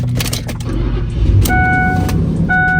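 A BMW M5 engine cranks and catches, a short scraping starter rattle followed by a rough low idle settling in, with a few chime tones sounding above it.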